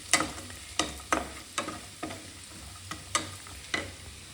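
Cut pineapple for kesaribath fries in a pan under a soft steady sizzle, while a spoon scrapes and stirs in about eight distinct, evenly spaced strokes close by.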